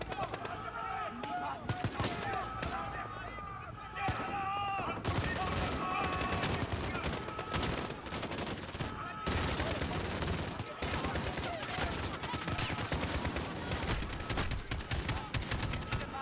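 Rapid video game gunfire crackles in dense bursts alongside music and game effects for the whole stretch, loud and continuous, as a player fires off shots while low on ammunition.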